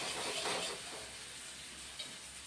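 Ginger-garlic paste with onions in hot frying oil gives a steady, soft sizzle and hiss with no talking.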